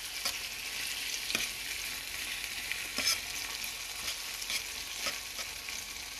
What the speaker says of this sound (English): So I'm just sauteing it with a little oil.